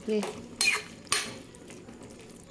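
A ladle mashes boiled potatoes in a pot for a jackfruit seed vegetable curry, giving three clattering metallic knocks and scrapes against the pot.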